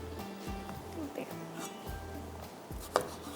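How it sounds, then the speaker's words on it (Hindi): Tomatoes are finely chopped with a knife on a board, a quick run of close, rhythmic thuds at a steady pace, fairly quiet, with a voice speaking faintly underneath. "टमाटर बारीक बारीक काट लेते हैं"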